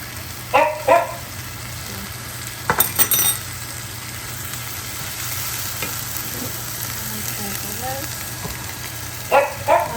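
Tuna frying in a hot pan with rice, a steady soft sizzle under the clatter of a spatula stirring and scraping, with a few short louder bumps at the start and end.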